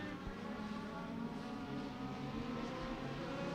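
Legend race cars racing in a feature at Beckley Motor Speedway, a steady, fairly quiet drone of several engines heard from a distance.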